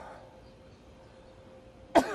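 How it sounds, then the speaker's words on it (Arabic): A single sharp cough from a patient trying to clear lung secretions, sudden and close at the very end after a quiet stretch with a faint low hum. "والمريض في الوضع ده بيحاول يكح عشان يخرج الافرازات"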